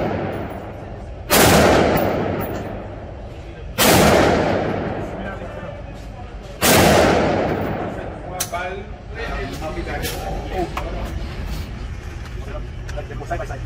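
Three loud, close gunshots boom at an outdoor gun range, spaced a few seconds apart, each one echoing and decaying. Steady background noise fills the gaps, and faint scattered clicks and knocks follow the last shot.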